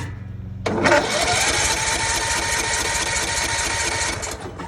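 A 22 hp, 597 cc lawn tractor engine cranks and catches after a brief pause, settling into a loud, close, rattling run for several seconds before dying down near the end.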